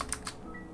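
Keystrokes on a computer keyboard while writing Android code, a few distinct soft clicks early on and then light continued tapping, close and quiet with no talking.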